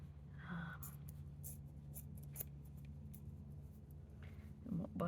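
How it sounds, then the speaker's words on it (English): Scissors snip repeatedly through old clothing fabric in short, crisp cuts close to the microphone, with a soft voice speaking quietly in between. "Just trying to be mindful of where I'm holding my scissors."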